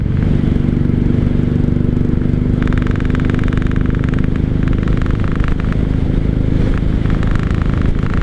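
A 1995 Honda Shadow VLX 600 motorcycle engine drones loudly and steadily while riding in fourth gear on a rough road, with slight uneven wavering in its tone as it falters.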